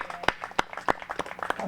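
An audience at a ribbon-cutting ceremony for a street conversion claps in a short, scattered round of close, uneven hand claps, with a voice heard faintly underneath.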